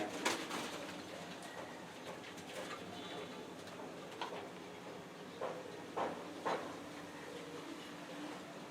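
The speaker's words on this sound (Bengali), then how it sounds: "এই যে এখানে কবুতর আছে।" Pigeons coo softly in a loft, a few low throaty calls scattered over a quiet room hum, with occasional brief knocks and faint distant voices.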